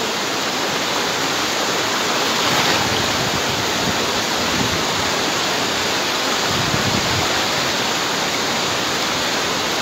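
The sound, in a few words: strong river current flowing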